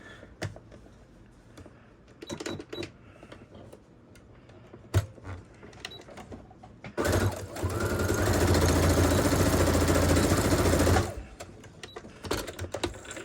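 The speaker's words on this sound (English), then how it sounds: "we're going to stitch them together, just one little straight stitch" A home sewing machine running steadily for a few seconds while stitching a straight seam on a McCall's 8505 garment, with scattered clicks and handling sounds before and after the hum.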